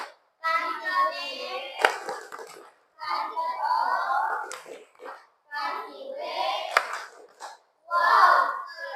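Classroom of pupils claps together and shouts wow in unison, a rhythmic clap-and-cheer chant repeated in several bursts, with a sharp clap marking each round.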